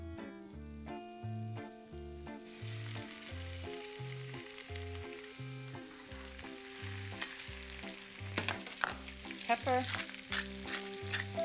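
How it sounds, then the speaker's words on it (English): Vegetables sizzle in butter with a little oil, a soft frying hiss that builds toward the end, under a steady looping music bed and a single brief spoken word. "you can finish them in butter and a little drop of oil so the butter doesn't burn"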